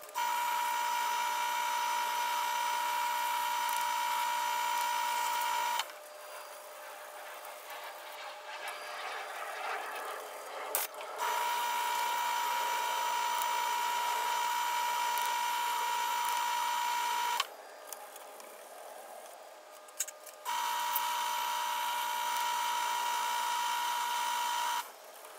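Power sanding of a wooden woodturning piece, a Christmas gift on the lathe. A steady, loud whine runs in three long bursts of about five to six seconds each, separated by quieter gaps.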